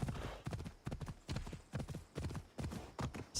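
A horse's hooves clip-clop in a steady, even rhythm in Assassin's Creed Odyssey, each hoofbeat crisp and distinct at close range.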